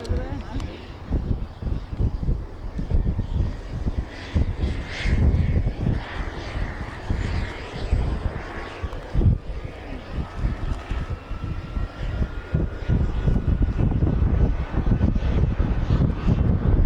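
A Messerschmitt Me262 jet fighter drones steadily overhead at an airshow for the whole stretch, rumbling and wavering as it passes, with wind noise and faint voices mixed in.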